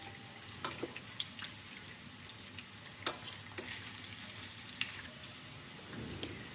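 Egg-dipped potato snacks fry in oil over a low flame, giving a soft, steady sizzle with scattered small pops and crackles. It is fairly quiet, and no one talks.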